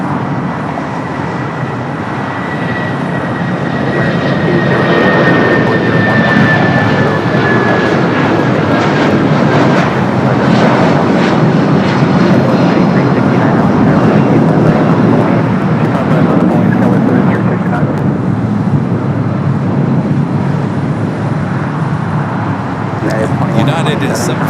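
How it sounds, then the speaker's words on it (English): A United Boeing 757 departing runway 25 right at LAX builds into a loud, steady jet roar that holds for most of about twenty-five seconds and eases slightly near the end. "We do have the United 757 now. Departing off 25 right."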